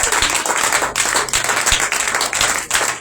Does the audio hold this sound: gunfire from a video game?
no